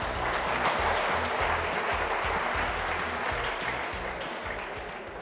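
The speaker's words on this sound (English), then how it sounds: "A round of applause for Rejoice, please." Sustained audience applause at a quiz show for a contestant named Rejoice, a dense steady wash of many hands clapping that carries on throughout and tapers slightly toward the end.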